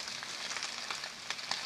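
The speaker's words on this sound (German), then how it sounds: "das kocht so ganz, ganz langsam vor sich hin" Food slowly cooking in the video game Epic Chef, a steady soft sizzle with faint crackles, alone and fairly quiet throughout.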